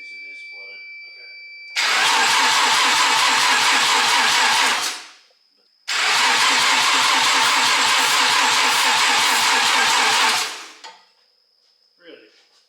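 A Mazda RX7 drift car's engine cranks without fuel in two long, loud bursts of rapid rhythmic churning separated by a short pause. A high electronic tone and quiet talk are heard before and after.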